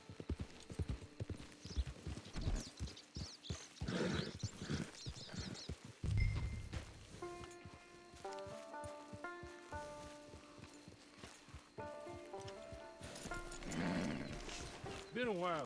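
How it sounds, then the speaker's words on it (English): Horse hooves clip-clop steadily in Red Dead Redemption 2 as a mount trots toward camp, with occasional whinnies, soft game music and a voice talking over parts of it. "Get your horse."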